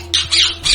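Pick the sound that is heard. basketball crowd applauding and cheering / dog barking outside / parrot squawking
parrot squawking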